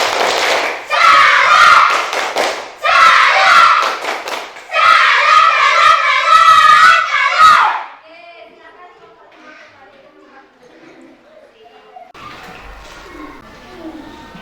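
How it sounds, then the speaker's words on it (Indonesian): Schoolchildren in a classroom doing a rhythmic tepuk salut cheer clap, bursts of group clapping mixed with loud chanting voices in three loud sections, followed by quieter talk. "ayo beri tepuk salut dulu untuk kelompok 5 dan untuk kalian yang sudah betul menjawab semuanya ya"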